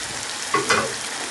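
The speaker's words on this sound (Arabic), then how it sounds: "ونبتدي بقى نقلب فيها كويس برضو بحيث ان ما تلزقش مننا" Chicken liver and chopped peppers fry in a pan, a constant hiss with a couple of quick stirring scrapes in the middle, close and without any talking.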